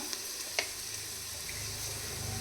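Kashmiri red chilli powder and turmeric fry in hot oil in a pan for moong dal vegetable khichdi, giving a steady, soft sizzle with a few light clinks of a spoon, and no talking.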